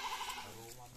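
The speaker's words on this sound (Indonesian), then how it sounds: "yung aming mga alagang kambing" Several goats from a large farm herd of around a hundred bleat in quick succession at close range, a short wavering cry followed by a lower sustained call, with faint background noise.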